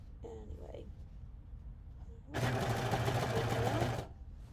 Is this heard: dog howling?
no